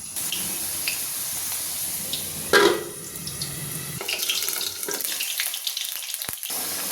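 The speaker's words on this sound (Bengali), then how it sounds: "মাংসে ব্যবহার করব আলুগুলো একটু হালকা করে ভেজে নিচ্ছি" Potatoes fry lightly in hot mustard oil for a mutton dish, giving a loud, continuous, close hiss with a sharp burst of sizzle partway through that settles back into steady crackling.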